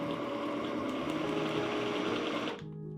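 An electric mixer whirs steadily as it beats a mixture of sugar, cocoa powder and a little oil, a constant motor hum that cuts off near the end, leaving a quieter background.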